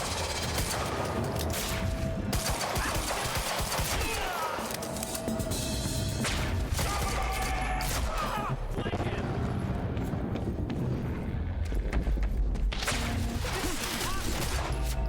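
Gunfire in the action game Quantum Break sounds as dense, continuous bursts of shots and impacts through a loud firefight, with voices talking over the shooting.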